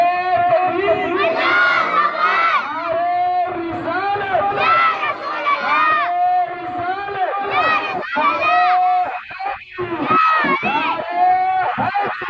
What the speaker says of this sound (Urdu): تو پورا مجمع نعرہ لگائے بابا سے پورے گاؤں میں آواز آئے، نعرے تکبیر